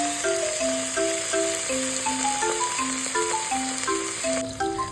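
A T-bone steak fries in a little oil in a pan, giving a steady broadband sizzle that sits beneath a prominent melodic music track throughout.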